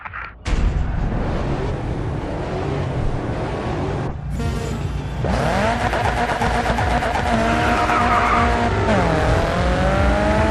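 Race car in the GRID 2 video game driving at speed, with a loud, continuous engine roar that climbs through gear changes. A brief drop near four seconds is followed by rising revs and some tire noise.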